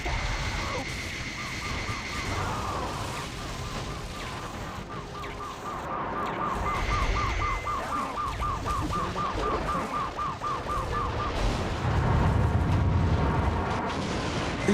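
The multi-missile launcher in Metal Wolf Chaos fires a long, fast stream of ticking launches over a constant roar of booms and blasts, with heavier explosions swelling toward the end.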